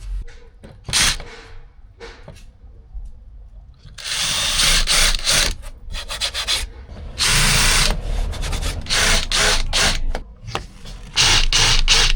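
Power drill countersinking screws into a plywood campervan floor, close and loud, in several whirring bursts of varying length separated by short pauses and scraping.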